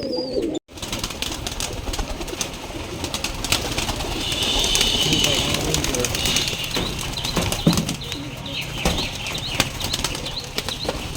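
Pigeons at a pigeon farm burst into flight with a rush of flapping wings, followed by continuous fluttering and soft cooing, while voices murmur in the background.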